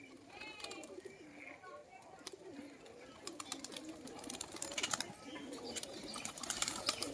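A flock of racing pigeons kept at a home loft: soft overlapping cooing and occasional wing flaps close by, a steady low murmur of birds that gets busier toward the end.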